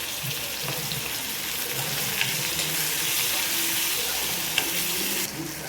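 Onion and curry leaves sautéing in a pan for a raw-banana poriyal give off a steady, close sizzle that runs continuously with faint stirring scrapes and no talk.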